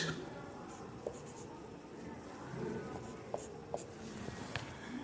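Someone writes out lithium's electronic configuration during a Class 11 chemistry lesson. The writing is a quiet, continuous scratching broken by a few small taps, heard at low level.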